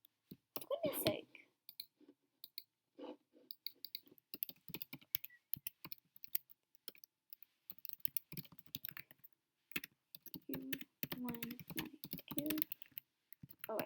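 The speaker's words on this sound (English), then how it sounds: "I'm just gonna retype this drummogram." Rapid clicking keystrokes on a computer keyboard in irregular bursts, fairly close and quiet, with brief soft speech mixed in at times.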